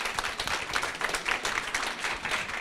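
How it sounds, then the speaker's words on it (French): Audience applause following a start-up pitch at an event: steady, dense clapping from a crowd, sustained evenly throughout at moderate distance. "Merci pour vos applaudissements"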